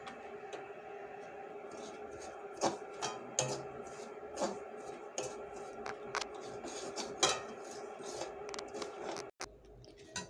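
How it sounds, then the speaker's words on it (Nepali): Semolina is dry-roasted in a kadai, with a steady background hiss and repeated scraping and clinking of a spoon against the pan, close and fairly quiet. "अब म यहाँ कराईमा सुजी राख्दैछु। थोरै सुजी भुट्छु"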